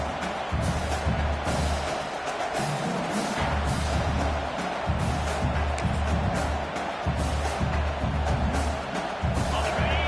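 Dense video game stadium crowd roar during a college football game, sustained cheering and noise with low rumbling underneath, no clear speech on top.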